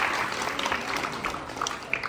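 An audience at a gathering claps steadily for a doctor, a brief, continuous patter of many hands at moderate distance.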